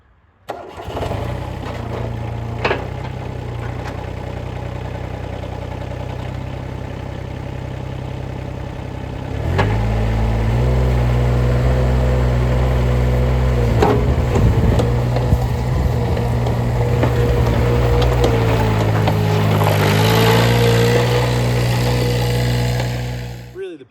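A Dingo mini loader's engine runs steadily, then rises to a louder, fuller idle partway through, with low rumbling harmonics and occasional clunks, heard close and alone.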